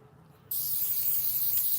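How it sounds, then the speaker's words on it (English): Hairspray bursts from an aerosol can onto a cookie, a sudden loud, close hiss that starts abruptly after a quiet moment and continues steadily without a break. "We're gonna coat it in hairspray first."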